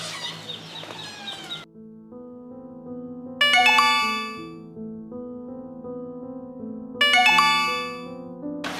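A phone ringtone announcing an incoming call plays as a steady looping melody, with two bright chiming bursts about three and a half seconds apart, fairly close and with no talking.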